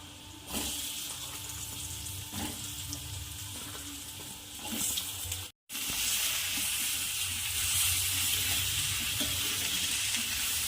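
A loud hiss of frying erupts as ridge gourd goes into the pan and settles into steady sizzling, with occasional stirring clinks; no one talks.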